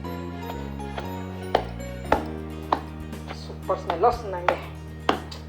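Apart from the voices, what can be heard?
pounding roasted tamarind pods by hand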